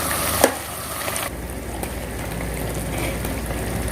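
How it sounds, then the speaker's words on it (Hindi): Chicken biryani masala of tomato and chicken frying in a pan as the water cooks off, giving a continuous close hiss and sizzle with a brief louder spatter near the start. "इसको भूनते रहेंगे जब तक कि ये सारा पानी खुश्क हो जाए"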